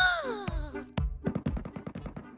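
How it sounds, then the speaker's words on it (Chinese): Sharp gunshots in a shooting video game ring out after an opening swell of game sounds, with around ten rapid reports in an irregular burst near the end of the short, moderately loud stretch. "山头还有枪声"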